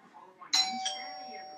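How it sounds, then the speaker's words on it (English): A two-tone electronic doorbell chime rings once, bright and clear, with a sustained ringing tone fading slowly; faint voices murmur beforehand. "just little doorbell."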